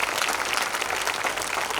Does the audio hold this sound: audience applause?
yes